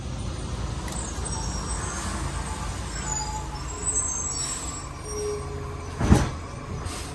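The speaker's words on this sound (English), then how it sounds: "Garbage trucks here." A garbage truck with air brakes passes on a street, a steady low rumble of engine and traffic building through the clip, with a sharp loud hiss burst of air brake near the end, alone without talk.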